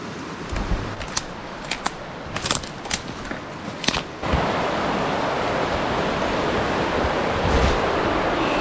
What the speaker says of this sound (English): So right here in these rapids, that's where all that water is getting tons of oxygen